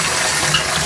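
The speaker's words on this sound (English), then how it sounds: "So I have water coming out of both the spout and the shower head up above." Water rushing steadily from both a bathtub spout and an overhead shower head because of a faulty diverter seal, a loud, continuous hiss of running and splashing water with no talk.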